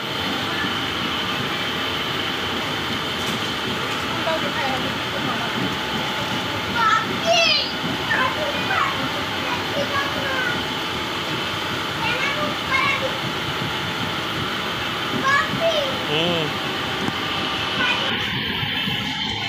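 A local train runs through the dark with a continuous rattling rumble, nearly empty, while children's voices and other talk come and go over the noise.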